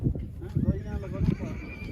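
A horse neighs at a horse-riding spot in Kashmir, whinnying in short bursts close by, with people talking at the same time.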